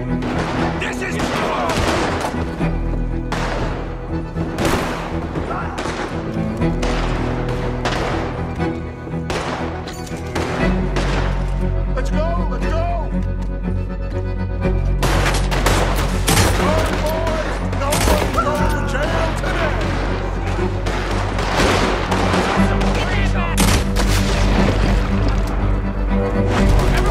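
Gunfire rings out in Red Dead Redemption 2, with many sharp shots in irregular rapid bursts across the whole stretch and a voice talking over some of it.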